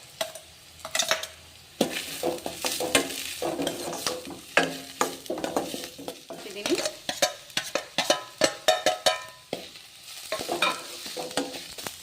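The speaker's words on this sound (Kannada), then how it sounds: "ಈಗ ನೋಡ್ರಿ ಇದು ಫ್ರೈ ಆಗತ್ತದಲ್ಲ" Chopped cauliflower and curry leaves sizzle in a pan while a utensil stirs and scrapes in repeated, uneven bursts, close and fairly loud, with no voice heard.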